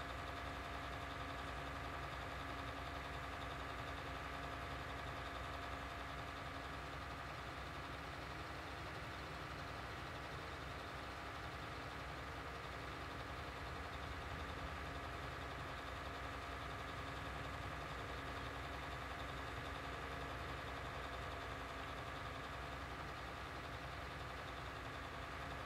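A tractor engine drives along a set route in a farming video game, a faint, steady mechanical drone that hums evenly throughout without any change in pace and with no talking over it.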